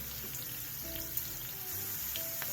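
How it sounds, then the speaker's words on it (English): Capsicums sizzle steadily in a hot pan over medium heat, a soft continuous frying hiss with faint background hum. "The capsicums have been frying."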